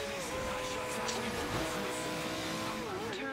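McLaren P1 engine in Forza Horizon 2, driven in the rain on a race course, holding a steady loud drone with shifting revs and tire noise, under speech.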